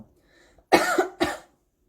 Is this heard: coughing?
yes